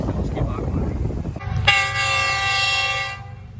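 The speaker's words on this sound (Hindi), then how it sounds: "अब गुड्स ट्रेन जा रही है।" A goods train passes a small railway station. A sharp, steady horn blast lasts about a second and a half over the rumble of the moving cars, close and loud.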